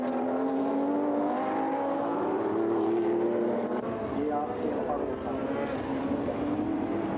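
Rallycross race cars pushed hard around a European Championship track: a continuous roar of engines whose pitch rises and falls as the cars accelerate and brake, steady and fairly close, with a voice talking over it.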